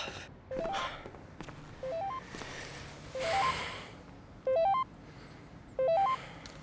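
A phone plays repeated short rising electronic tone sequences, five bursts spaced about a second apart, each a quick ascending run of beeps over faint breathing and room noise.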